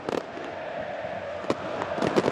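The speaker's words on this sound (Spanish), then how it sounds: "Y ahí van los fuegos artificiales que invaden esta noche aquí en la Bombonera" Fireworks bursting over La Bombonera stadium during Boca Juniors' 2015 Argentine league championship celebration, sharp cracks and pops rising above a steady roar of the crowd, with a cluster of louder bangs near the end.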